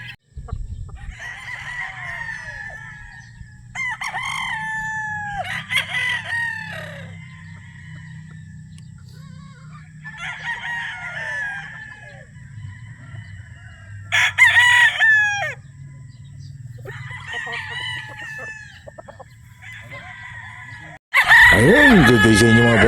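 Gamefowl roosters at a game farm in Batangas crow repeatedly, several long cock-a-doodle-doo calls near and loud over a steady low hum, with clucking in between and a burst of louder bird noise at the end.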